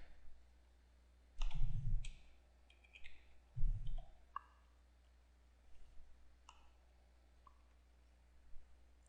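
Computer mouse clicks on a desk, a few sharp isolated clicks spread out with pauses between them, alongside a couple of duller thumps and a low steady hum underneath.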